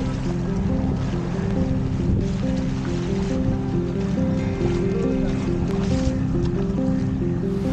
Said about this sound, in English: We used a traditional Thailand tail boat.